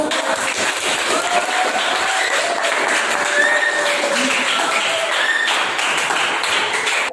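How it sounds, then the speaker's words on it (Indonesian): Steady applause from a roomful of people, dense clapping sustained at an even level throughout, ending abruptly. "tepuk tangan buat"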